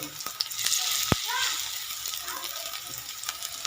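Small fish and mustard-flower pakoras sizzle steadily in hot oil, a continuous close frying hiss with occasional pops and crackles.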